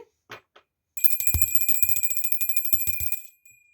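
A small bell rings rapidly and continuously for a couple of seconds, bright and close, after a few soft knocks.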